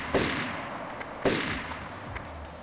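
Two sharp gunshots in an audio drama, each a loud crack with a short decaying tail, about a second apart, followed by faint lighter knocks.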